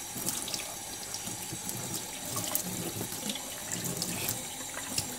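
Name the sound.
rinsing Japanese natural sharpening stone under tap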